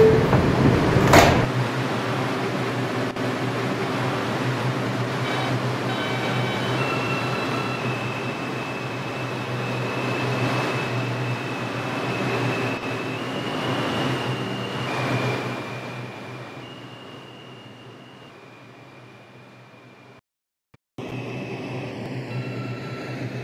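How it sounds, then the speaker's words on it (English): An R142 subway train on the C line, its doors sliding shut with a thump, then the car pulling away with a steady rising rail rumble and a faint whine, ending in a brief drop to silence before the running noise resumes. "Stand clear of the closing doors"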